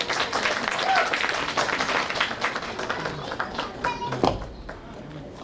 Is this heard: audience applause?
yes